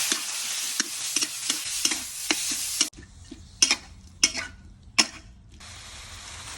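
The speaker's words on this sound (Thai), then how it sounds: "ใส่หมูหั่นชิ้นลงไปผัดให้หมูสุก" Sliced pork sizzles in a hot pan with fried chili and garlic under a bright frying hiss, punctuated by several sharp scraping strokes of a spatula stirring.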